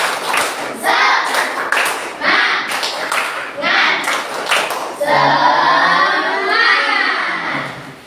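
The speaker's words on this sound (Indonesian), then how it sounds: "Tepuk semangat." A school class gives a rhythmic cheer clap in bursts of patterned claps and taps with children's voices shouting along, then a chanted cheer rises at the end, loud and close in a classroom.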